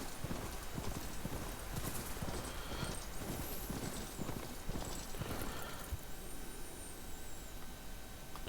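A horse ridden in Horizon Forbidden West pounds along in a brisk, regular clip-clop gallop, close and steady throughout, with game ambience and occasional whinny-like tones behind it.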